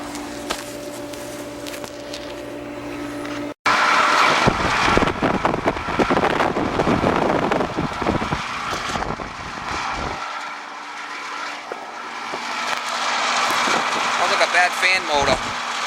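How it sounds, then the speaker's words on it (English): An Aqua Comfort pool heat pump with a failing fan motor starts up and runs loud and rough, a broad steady roar with buzzing overtones that continues to the end after a brief stop near the start. "We're going to fire it up and see what it sounds like. But Aqua Comfort heat pump."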